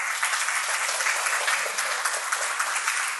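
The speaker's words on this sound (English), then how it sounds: "a round of applause for Neil" A hall full of people at a combined parish session gives a dense, steady round of applause, loud and sustained throughout.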